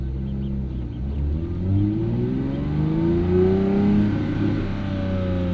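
2022 Porsche 911 GT3 engine rising and falling in pitch while driving with the windows down, a loud continuous engine drone that climbs through the revs without talk.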